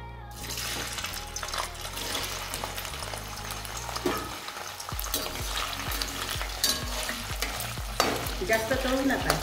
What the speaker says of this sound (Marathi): ही पनीर सुद्धा आपल्याला तेलामधून हलकेसे तळून घ्यायचे आहे